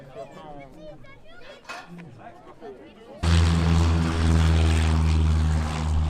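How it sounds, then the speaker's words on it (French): Two Robin DR400 light aircraft from a Sarlat aero club taking off at an air show in the Dordogne, with a steady, loud propeller-engine drone that starts suddenly after people talk and then continues alone. "Les avions de l'aéroclub du Sarladais sont en train de décoller pour s'être représentés maintenant. Ce sont deux DR400."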